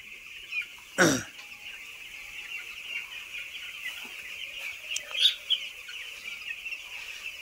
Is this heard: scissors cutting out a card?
no